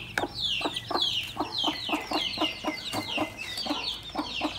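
A native country hen sitting on eggs clucks repeatedly in short, rhythmic bursts, close by, with other birds chirping faintly in the background.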